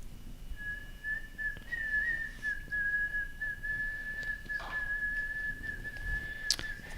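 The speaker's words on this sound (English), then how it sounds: "That is such a monotone whistle." A person whistles one long, steady, unchanging note for several seconds, fairly quiet, with a brief higher chirp near the end.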